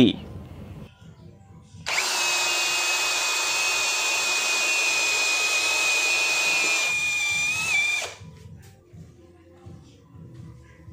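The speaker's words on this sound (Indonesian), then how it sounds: "saya menggunakan percepatan yang high dan modenya adalah mode drilling" A cordless drill in high-speed drilling mode whines loudly for about six seconds as it bores into 15 cm thick mahogany, then stops, with quieter ambient noise before and after.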